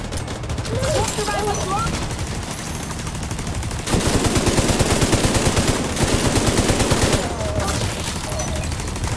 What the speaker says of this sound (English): That turret is a boss. Look at that thing go. It's just railing people.